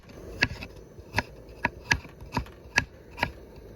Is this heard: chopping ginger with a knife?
yes